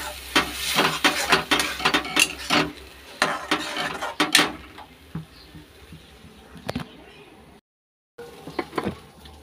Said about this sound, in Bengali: সর্ষেটা দিয়ে নাড়াচাড়া করে নামিয়ে নেব।